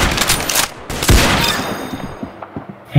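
Short bursts of rapid gunfire in the Roblox game Arsenal, a crackling volley followed by a few scattered single shots, loud and close, with no talking.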